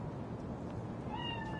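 A cat in Cyberpunk 2077 lets out a faint, drawn-out meow over a dense, murky background rumble, rising in pitch toward the end of the short stretch.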